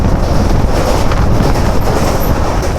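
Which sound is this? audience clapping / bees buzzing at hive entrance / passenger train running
passenger train running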